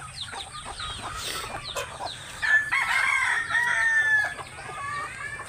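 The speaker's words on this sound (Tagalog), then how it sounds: "Ito naman tayo sa mga pansabong natin mga idol." Fighting roosters kept for cockfighting, with nearby clucks and a clear drawn-out crow in the middle, other birds calling faintly in the background.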